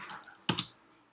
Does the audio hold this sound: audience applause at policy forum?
no